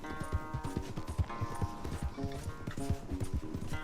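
Hooves pound rapidly in a steady galloping rhythm as a horse races in Red Dead Redemption 2, close and loud over a busy backing of game music.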